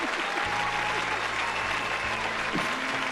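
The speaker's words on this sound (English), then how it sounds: "Let's hold up the sign for the audience to applaud." Studio audience applause on a comedy talk show, a steady dense wash of clapping held at even level throughout, with low hum and faint tones underneath.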